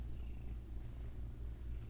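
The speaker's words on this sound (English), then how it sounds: "Ignore all the purring and noises that you guys hear. My cat has decided to come and say hello." A pet cat named Jax purrs close by, a steady low rumbling throb that continues without a break, with no talking over it.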